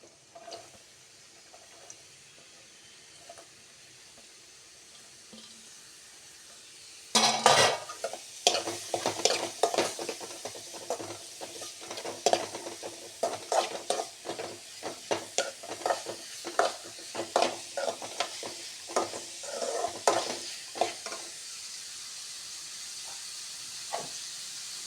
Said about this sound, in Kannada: ಎಣ್ಣೆ ಬಿಸಿ ಆಗ್ತಿದ್ದಾಗೆ ಈರುಳ್ಳಿಯನ್ನು ಹಾಕ್ಕೋತೇನೆ. ಈರುಳ್ಳಿ ಹಾಕಿ ಫ್ರೈ ಮಾಡ್ಕೋತೇನೆ.